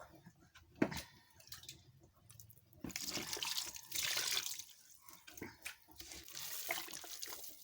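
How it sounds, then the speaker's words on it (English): Water is poured into a cassava fufu mixture, with intermittent splashing and trickling, close and fairly quiet, in uneven bursts. "I'll still add water here."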